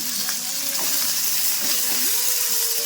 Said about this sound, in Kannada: ಸ್ವಲ್ಪ ಫ್ರೈ ಮಾಡ್ಕೋಬೇಕು ಎಣ್ಣೆಯಲ್ಲಿ